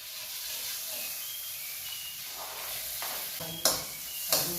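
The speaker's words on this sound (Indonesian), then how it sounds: "Tumis duluan seperti yang tadi saya sampaikan, yaitu bawang putih dan bawang bombay sampai layu dan tercium harum." Garlic and onion sautéing in a pan for spiced biryani rice, a steady broadband sizzle with a couple of sharp utensil clinks or stirring knocks near the end.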